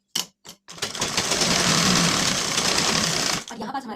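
A sewing machine runs steadily stitching tucks on a blouse, loud and close, after a couple of short starting bursts, then stops near the end.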